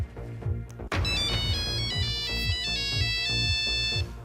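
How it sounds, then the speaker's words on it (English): The classic Nokia mobile phone ringtone plays loud and clear as a bright, bouncing electronic melody of rapid repeated notes, starting after a brief cut and running on steadily with no one talking. "A call from the past. Nokia goes retro and relaunches its classic phone."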